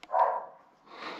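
A dog barks once or twice in a Greek mountain village, fairly close and clear, with a short follow-up yelp against an otherwise quiet street.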